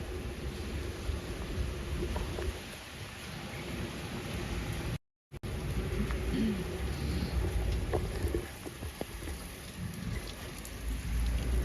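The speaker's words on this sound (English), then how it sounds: "The rain not only never stops, but getting even heavier." Heavy rain pours steadily outdoors among 1960s residential apartment blocks in a Russian town, a dense continuous hiss with scattered drips and a brief cutout partway through.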